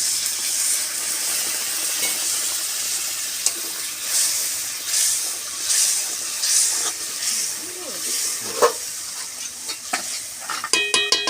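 Sizzling chicken kosha in a hot pan as a little water goes in, a loud sustained hiss and steam bubbling with stirring scrapes, rapid clattering near the end, no speech.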